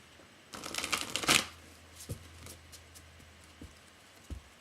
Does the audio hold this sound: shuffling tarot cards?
yes